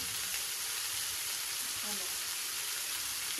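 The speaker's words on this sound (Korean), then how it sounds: "일단 파랑 마늘 넣고 볶아줄게요. 기름에 당근도 넣고" Scallion, garlic and carrot stir-fried in hot oil in a home kitchen in Qingdao, giving a steady, even sizzle that stays constant throughout with no voices.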